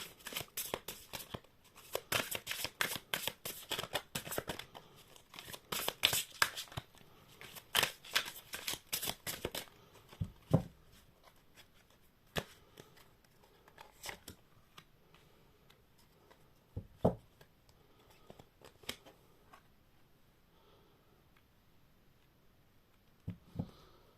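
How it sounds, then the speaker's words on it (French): Angel tarot cards being shuffled and drawn: a dense run of sharp card flicks and riffles for the first ten seconds, then sparse single snaps and slides as cards are laid out, close and fairly quiet. "je vais prendre le tarot des anges et je vais tirer quelques cartes"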